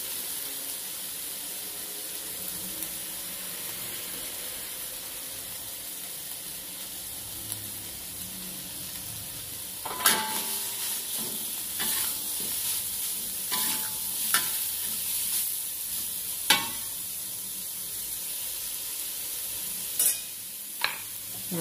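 Shredded chicken frying in a pan with lime leaves, bay leaves and lemongrass, giving a steady low sizzle, then a run of sharp scraping stirs and clacks from about halfway through.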